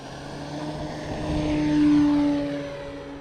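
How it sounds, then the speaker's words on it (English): A Carbon Z T-28 RC model airplane takes off, its electric propeller whine climbing in pitch and loudness, peaking as it passes near, then easing away, with no talk. "All right, we're going to take off from down there."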